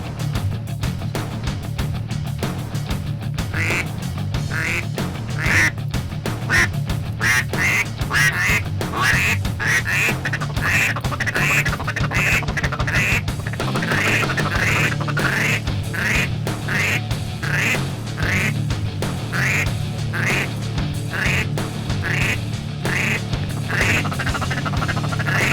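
Ducks quack steadily in a Texas tank pond, with diving ducks and widgeon around, a rapid chattering series of close, loud quacks repeating throughout against a low steady background hum.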